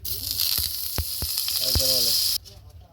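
White oil and butter sizzle loudly in a pan for a tandoori chicken dish, with a steady bright crackle and a few sharp pops and clinks before the sizzle cuts off abruptly near the end.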